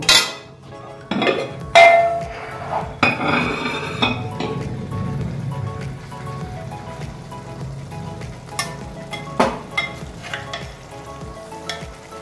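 Koi fish go into a pan with cabbage and hit hot oil, giving a loud burst of sizzling frying, then steady crackling and a few metallic scrapes and clinks as everything is gently stirred, with no voices.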